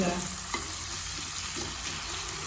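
Steady sizzling of onions sautéing in a hot pan with salt, with occasional stirring scrapes, continuous and close.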